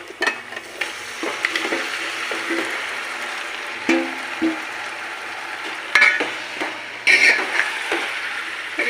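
Chicken pieces sizzle in a pan of fried ginger garlic paste, a steady broadband frying hiss with intermittent scrapes and clinks of a spoon stirring against the metal, at moderate loudness and close to the mic.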